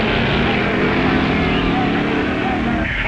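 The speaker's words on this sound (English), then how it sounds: "there goes his brother Phil in his A Gasser, affectionately called Grandma" An A Gasser hot rod drag racing car from 1959, nicknamed Grandma, roars at full throttle, a loud, dense, continuous engine blast that barely fades over a few seconds.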